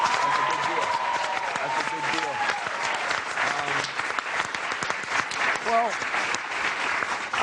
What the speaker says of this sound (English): So give a round of applause for that.